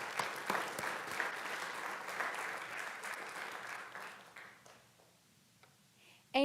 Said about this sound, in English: So we'll give him a round of applause at this time.